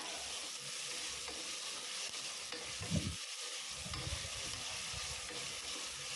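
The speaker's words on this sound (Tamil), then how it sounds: "தக்காளி நல்லா வதங்கிடுச்சு" Tomatoes with salt and spices fry softly in a pan for mint pulao, a faint continuous sizzle with a brief stirring scrape midway and no voices.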